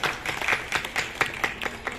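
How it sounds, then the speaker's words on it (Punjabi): Sparse applause from a school audience at an adolescent education and AIDS awareness programme: a thin scatter of handclaps in loose, uneven rhythm, moderately close, with no other voices. "ਇਹ ਤਾਲੀਆਂ 'ਚ ਇੰਨੀ ਕੰਜੂਸੀ ਕਿਉਂ"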